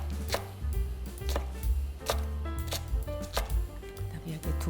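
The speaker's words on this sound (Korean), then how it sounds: "대파, 풋고추, 홍고추도 송송 이렇게 썰면 되니까." Knife chopping spring onion and green and red chillies on a cutting board, quick close taps in an uneven rhythm with several sharp louder strikes.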